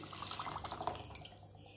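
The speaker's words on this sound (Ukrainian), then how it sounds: "І сюди ж я додам 1 літр звичайної холодної води." A litre of cold water poured onto peeled apricots and 250 grams of sugar, a close, steady splashing and trickling that fades toward the end, with no talk.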